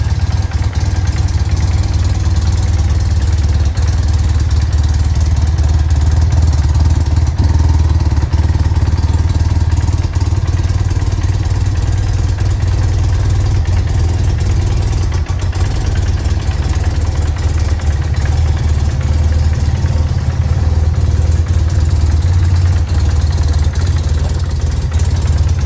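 A 1995 BMW R100GS Paris Dakar motorcycle idling after a cold start, a loud, steady, close low boxer-engine rumble that holds unchanged throughout.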